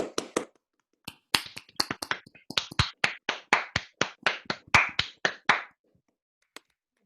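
Sparse, uneven claps from a few unmuted participants in an online meeting after a history talk on queer Belfast, sharp separate smacks at irregular spacing that trail off to a single late clap.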